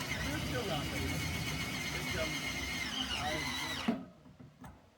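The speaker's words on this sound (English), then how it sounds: "So here we have Don drilling his pilot hole." A power drill bores a pilot hole through a vehicle fender for a self-tapping screw into aluminum stock, a steady loud whine running about four seconds before stopping abruptly, with faint rattles after.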